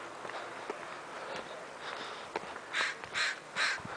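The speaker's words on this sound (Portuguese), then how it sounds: "Aqui tem muito corvo." Three loud crow caws ring out near the end, preceded by quieter outdoor street background with light shuffling.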